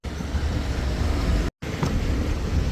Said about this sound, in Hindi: ये देखो भाई हमारी गाड़ी आ चुकी है